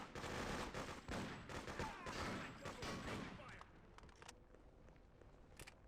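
Shotgun blasts and other gunfire ring out in the third-person shooter Freedom Fighters: a rapid cluster of loud, sharp shots for about three seconds, then a few scattered, fainter reports as the firing thins out.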